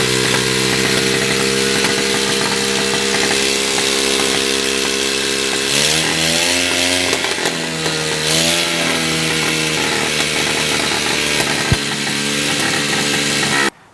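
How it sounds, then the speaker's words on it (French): The engine of a homemade prototype helicopter built in Burkina Faso runs loud and close, a steady buzzing drone that briefly rises and falls in pitch, then cuts off abruptly. "j'avais juste procédé au démarrage du moteur"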